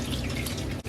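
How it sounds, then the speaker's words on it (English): A cold kitchen tap runs in a short, steady watery rush, close and alone. "We are gonna run that cold tap."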